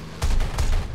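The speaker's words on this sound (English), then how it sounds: "Oh, he's starting to shoot." Aircraft machine gun fire in War Thunder during a dogfight with an A-26 Invader: a loud, close burst of rapid gunfire begins abruptly and keeps rattling with sharp repeated impacts over a low rumbling engine drone, with no talking.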